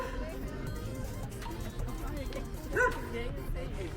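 A dog reacting to something odd on a city street, giving a brief yip and bark near the middle of the clip amid street noise and people talking.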